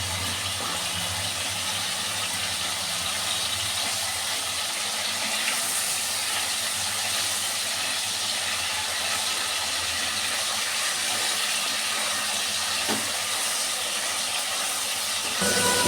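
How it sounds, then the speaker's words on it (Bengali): Prawns fry in hot oil, a steady, dense hiss like steam that holds evenly for the whole stretch, with no voices over it. "চিংড়ি মাছটা ভাজা হলেই হয়ে গেল।"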